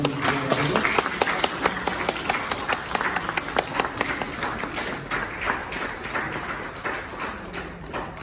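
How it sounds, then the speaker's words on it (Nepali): An audience at a Magar indigenous community association unity gathering in Kathmandu claps together, a dense, fairly loud burst of applause with crisp individual hand claps that gradually thins and softens toward the end, with no voices over it. "ताली चाहिँ बजाउनुलाई"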